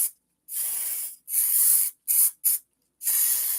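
An aerosol can sprays onto a wig in five loud, close hissing bursts of uneven length, separated by short silences.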